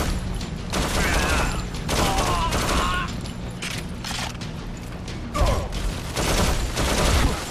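Rapid bursts of gunfire crackle almost nonstop through a Modern Combat 4: Zero Hour battle, loud and close, with mechanical clatter and shouted voices mixed in.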